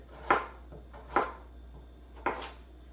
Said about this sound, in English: So you can cut these however you want. I'm just going to do a little on the slant here